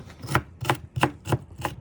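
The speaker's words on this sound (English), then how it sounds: "Now I will cut the onion." A knife chops through an onion on a cutting board during home cooking, five crisp, evenly spaced strikes about a third of a second apart, close and clear with no talking.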